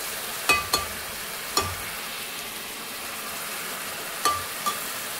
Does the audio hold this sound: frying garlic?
yes